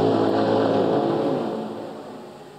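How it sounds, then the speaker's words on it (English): A number 2 Le Mans hybrid prototype race car pulls away at the 2023 24 Hours of Le Mans, starting under electric power with a steady, close mechanical whine that fades as it leaves. "So listen to the number 2 car."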